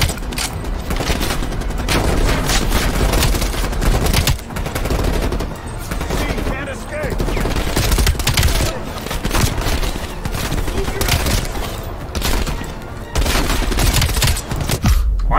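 Heavy gunfire fills a Call of Duty Black Ops Cold War battle, a loud near-continuous fusillade of shots and bursts lasting throughout, with voices talking beneath the noise.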